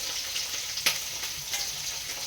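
Long thin slices of ivy gourd frying in a pan, a constant close hiss and sizzle with a sharp spatter burst partway through and a few light pops, no voices.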